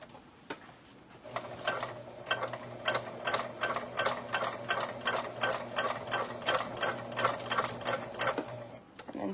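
A sewing machine stitches down the ends of a webbing keychain, a fast steady run of rattling needle strokes with a short start and pause before it, close and clear.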